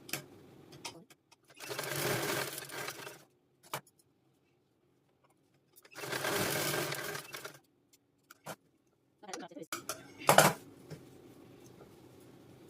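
A sewing machine back-stitching a blouse runs in two sustained bursts of a few seconds each, close and fairly loud, with quiet gaps and small handling clicks and taps between them.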